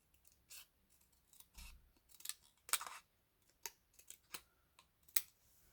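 Scissors snip a flower stem while making a handmade flower card, giving a few soft, quiet cutting clicks at irregular intervals with no talking.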